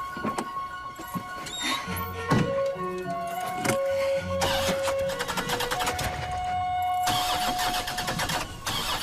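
A car engine cranks and starts in a French drama film, catching with a loud rising roar and settling into a steady idle amid music, with no talk over it.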